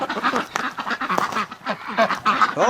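Muscovy ducks give a rapid run of short, raspy quacking and honking calls close by, overlapping and loud, with no speech.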